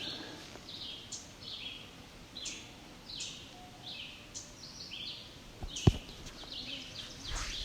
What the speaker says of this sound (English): There's our ovenbird again.